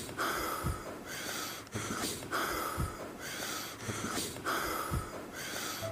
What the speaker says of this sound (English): Just listen to how he's breathing.